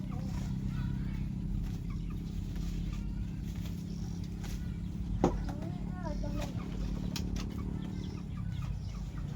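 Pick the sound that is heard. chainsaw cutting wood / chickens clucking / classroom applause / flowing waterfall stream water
chickens clucking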